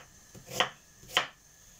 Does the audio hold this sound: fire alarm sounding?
no